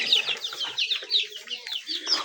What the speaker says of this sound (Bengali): মুরগি সরাই দিই।